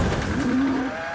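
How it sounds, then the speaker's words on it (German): Tires squeal in a rising tonal skid as a car brakes hard before colliding with a livestock transporter turning left, the screech held for about half a second over steady road and engine noise. "Kurt kann den Zusammenstoß nicht verhindern."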